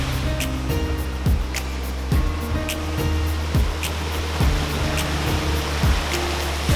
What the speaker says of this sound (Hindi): This basically is a पानी चक्की, water mill. तो ऊपर से यहाँ से पानी गिर रहा है और अंदर चक्की घूम रहा है